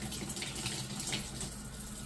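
Tap water runs steadily into a sink or tub for a dog's first bath, a continuous close splashing rush that holds without pause.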